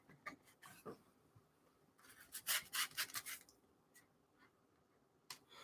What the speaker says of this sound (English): I'm just going to use a spatula to get underneath of this